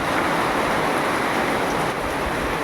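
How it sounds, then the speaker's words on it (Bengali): Heavy rain pours steadily outside a storage godown, a dense, loud, unbroken roar of falling water with no voices. "প্রচণ্ড বৃষ্টি পড়ছে"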